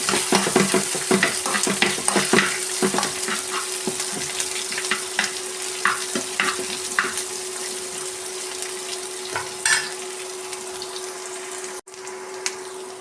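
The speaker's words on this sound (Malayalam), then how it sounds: "ഇഞ്ചി, കറിവേപ്പില, പച്ചമുളക് എല്ലാം ഇട്ട് നന്നായി വഴറ്റിയെടുക്കാം." Ginger, curry leaves and green chillies sautéing in a pan for a ginger curd curry, with a steady close sizzle and frequent scraping stirs throughout, no voices.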